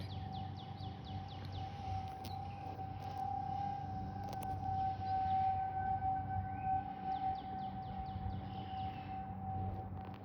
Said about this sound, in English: This was the second test of a siren test.